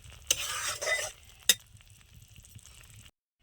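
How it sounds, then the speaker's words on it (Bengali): Fried shrimp stirred into a sour amra (hog plum) curry in a pan, a gentle scraping stir with soft sizzling, two sharp spoon knocks against the pan, then a quiet simmer before falling silent. "এবারে ভেজে রাখা চিংড়ি মাছগুলো দিয়ে দেবো দিয়ে একটু হালকা করে নাড়িয়ে দিলাম"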